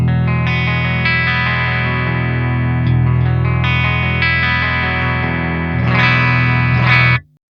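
A Schecter C8 Evil Twin 8-string electric guitar on voice 2 with both pickups plays heavy distorted chords, loud and sustained, ringing out before cutting off abruptly.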